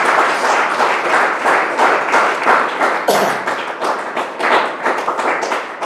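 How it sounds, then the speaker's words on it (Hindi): A Sunday church congregation claps together in rhythm, loud and close, with rapid, even hand claps continuing across the whole stretch and no talk over them. "ताली बजाएंगे परमेश्वर के लिए।"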